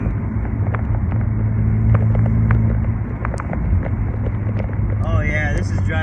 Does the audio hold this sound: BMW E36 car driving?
yes